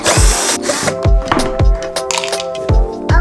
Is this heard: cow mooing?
no